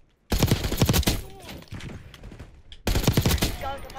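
Loud bursts of automatic gunfire in Call of Duty Black Ops 6, two dense volleys of rapid shots separated by a quieter stretch with distant pops and faint game effects, with no voices over them.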